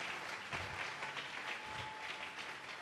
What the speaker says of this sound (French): Acclamons très fort pour les deux.